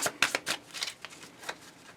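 Tarot cards are shuffled by hand in close, quick crisp bursts of flicking and sliding, several short rustles in a row, with no talk.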